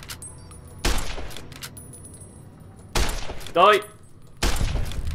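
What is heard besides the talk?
gunfire in the video game Fallout New Vegas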